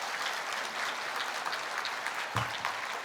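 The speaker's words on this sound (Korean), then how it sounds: "그분들 위해서 박수 한번 쳐줍시다" A church congregation during a Sunday sermon claps in a steady, moderately distant round of applause, with a brief thump partway through.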